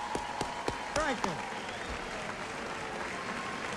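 A 1992 election night crowd applauds a governor with a broad wash of clapping and cheering, while someone speaks briefly over it, close and clear.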